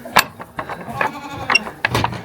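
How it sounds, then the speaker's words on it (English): Goats bleat in several short, nasal calls close by, overlapping in quick succession, with light mechanical clattering in the background of a chicken coop. "You stay back, goats."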